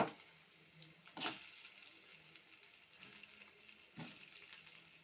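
Onions and egg curry fry in a pan with a soft, steady sizzle, broken by a couple of sharp clatters of stirring near the start and again toward the end, with no one speaking.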